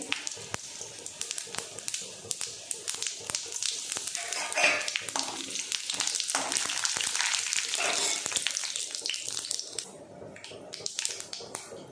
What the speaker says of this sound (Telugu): ఆయిల్ వేడైన తర్వాత తాలింపు దినుసులు వేసేసుకోవాలి